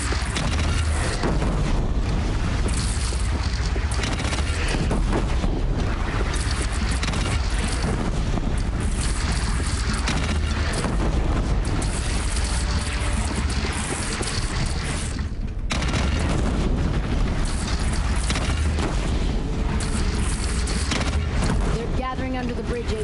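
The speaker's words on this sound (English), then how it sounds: "They only have one cannon!" Cannon blasts and explosions in the video game Horizon Zero Dawn, repeated heavy booms over wind and battle noise throughout, with voices talking at times.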